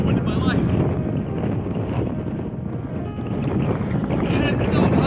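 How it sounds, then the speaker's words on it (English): Strong wind sweeping through Death Valley, heard as a loud, constant roaring buffet against the microphone with low rumbling gusts that swell and ease without pause. "Never felt this much wind in my life."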